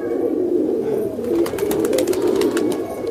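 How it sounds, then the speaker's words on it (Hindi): Kaldum pigeons kept by a pigeon fancier in Sambhal coo softly and repeatedly at close range, with faint clicking and flutter sounds in the background and no talking. "बहुत ही अच्छी कबूतर आवाज़ है"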